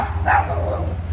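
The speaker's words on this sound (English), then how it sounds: "Dogs is barking." A single short dog bark rings out near the start, moderately close, over a continuous low outdoor rumble.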